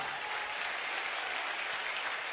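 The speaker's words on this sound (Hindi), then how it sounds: "बिटिया के लिए खूब ताली बजाओ" Steady, dense applause from an audience at a Bageshwar Dham mass wedding event, clapping for a young bride, filling the whole stretch with no voices.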